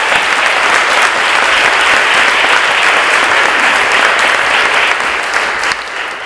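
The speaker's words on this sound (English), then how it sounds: "Can we have a little round of applause for them?" Loud, sustained applause from a large audience at a public debate on technology, dense and steady throughout, easing slightly near the end.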